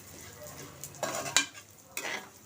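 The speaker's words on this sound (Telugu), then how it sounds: "ఈ రవ్వను వేసేసి కాసేపు చక్కగాను ఇందులో వేపిందారా" Wheat semolina (rava) is stirred as it fries in ghee in a pan, with a low sizzle under a few soft scraping strokes of the spoon, close and quiet.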